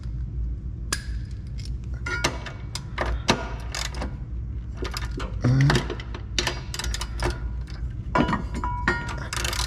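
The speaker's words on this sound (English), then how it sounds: "Let's go back to a ratchet." A ratchet wrench drives Loctite-coated bolts while running boards go onto a 2021 Nissan Titan Pro-4X, making close, irregular bursts of metallic clicks and clanks, with brief pauses between runs.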